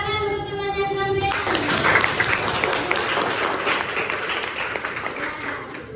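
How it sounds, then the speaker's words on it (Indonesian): A classroom of pupils applauds a classmate, with loud, dense clapping that starts abruptly and keeps going steadily to the end. A voice is heard at the very start. "Tepuk tangan untuk temannya sampai."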